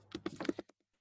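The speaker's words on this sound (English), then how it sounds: "So let's type it." A command is typed on a Mac keyboard: a quick, close burst of about six light key clicks in under a second, then silence.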